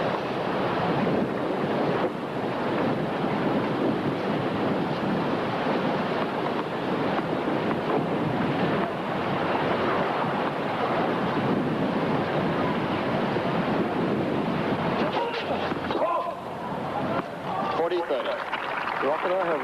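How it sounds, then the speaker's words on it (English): Strong wind gusting across an outdoor tennis court during a 1986 Stratton Mountain semifinal, a steady loud roar of wind noise buffeting the microphone throughout, with a commentator's voice faintly mixed in. "Wind is blowing the ball into McEnroe's face as he tosses the ball up."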